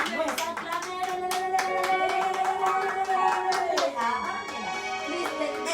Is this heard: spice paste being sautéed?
no